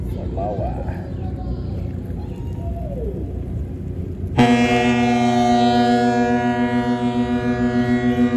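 In port, the Amadea cruise ship lets out a deep, loud, sustained horn blast that starts abruptly and holds steady, after several seconds of quiet harbour ambience and distant voices.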